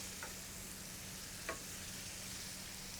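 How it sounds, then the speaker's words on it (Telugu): Tomato puree hitting chicken frying in a pan over high flame, a steady broadband sizzle with a couple of brief splattering spikes as it lands, constant and close. "మనం రెడీ చేసుకున్న టమాటో ప్యూరీ ఏదైతే ఉందో అది పైనుంచి వేసేసుకుందాం"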